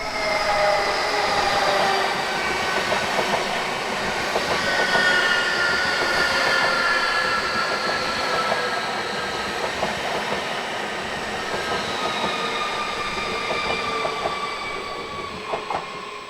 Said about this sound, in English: Vectron 193566 is seen on train 41481 from Rheinhausen, conveying containers bound for China.